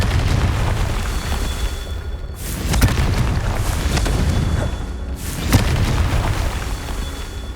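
Confringo fire spell explosions in the Hogwarts Legacy game, two booming blasts a few seconds apart over a dense, continuous roar of game sound.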